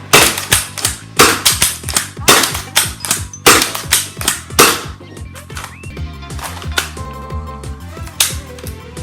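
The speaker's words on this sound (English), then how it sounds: "Firing the Adventure Force, or Dart Zone Max Darts, the 9 kg spring, out of a Worker 18 round angled Talon." Gecko slide-primed foam dart pistol with a 9 kg spring firing Dart Zone Max darts from an 18-round angled Talon magazine: a rapid string of sharp, close cracks, each with a clacking priming stroke, slowing to a few spaced shots.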